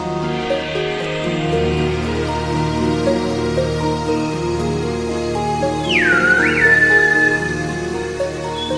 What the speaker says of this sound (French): Le langage sifflé est un héritage ancestral d'origine préhispanique